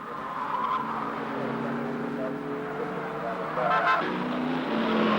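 A touring race car runs its final lap at the 1969 Hardie Ferodo 500, engine droning steadily with rising and falling pitch under a commentator's voice throughout.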